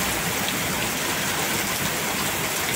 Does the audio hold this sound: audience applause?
no